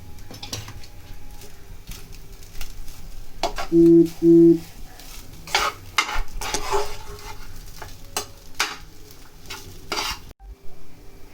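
Chicken fried rice with pepper powder is stir-fried in a pan, with repeated spatula scrapes and tosses over a low sizzle, interrupted by two short electronic beeps.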